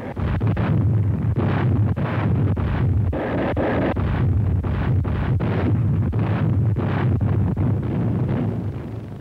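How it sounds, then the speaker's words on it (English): Heavy naval guns bombarding invasion beaches in the Pacific during World War II, in the Philippines, heard as a steady series of deep booming blasts and rumbling concussions repeating every second or so, loud and continuous with no voices. "The more those big guns pounded the beaches, the fewer Japs there would be to meet us when we went ashore."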